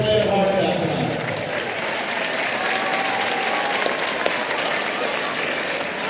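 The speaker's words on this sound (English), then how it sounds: "Please give a huge round of applause for these guys" Steady crowd applause fills a gym after a 30th District boys and girls basketball championship game, dense clapping held at an even level throughout, with some voices and a brief whistle mixed in.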